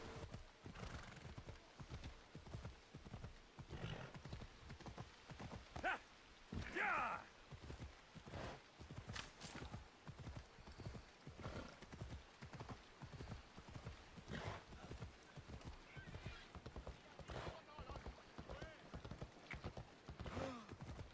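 A horse in the video game Assassin's Creed Odyssey hammers out steady, rhythmic hoofbeats throughout, with a brief whinny partway through and faint talk in the background.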